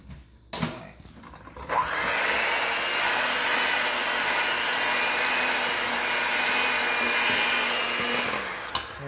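An electric mixer creams wet cookie dough for soft, chewy chocolate cookies, starting after a short pause and running as a steady, fairly loud whirring drone that holds almost unbroken to the end.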